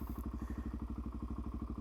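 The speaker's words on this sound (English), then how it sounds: "the bike just pulled away on its own" An inline-four motorcycle engine idling and pulling away on the clutch alone, a close, steady rapid pulsing thrum with even exhaust beats and no voices.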